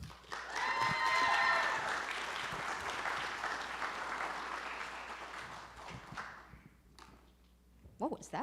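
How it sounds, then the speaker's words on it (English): A community event audience applauds, loud and full at first, then fading over several seconds into scattered claps, with a voice speaking briefly as it dies away. "Everybody, give a big round of applause for Elisa Berndt."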